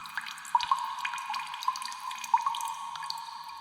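Water drips in a quiet space, a few clear plinks landing irregularly over a soft steady trickle, close and alone.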